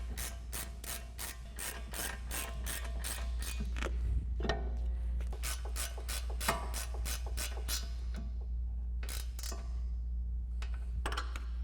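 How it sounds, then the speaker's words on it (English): An 18mm socket on a ratchet wrench tightens brake mounting brackets on a 2015-2023 Mustang, giving close, steady runs of rapid clicking that pause and resume several times. "And now we'll go ahead and tighten up our mounting brackets using our 18mm socket."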